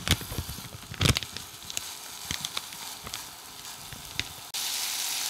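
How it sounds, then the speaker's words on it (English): Ground sausage browning in a heated pan, giving a soft steady sizzle with scattered crackles and light scraping taps, fairly close, ending in a sudden rise of hiss near the end. "we are going to start browning our ground sausage"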